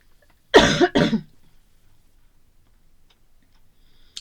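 Two quick, harsh coughs close up from a cough lasting about 1.5 weeks, followed by near silence with a faint click at the very end.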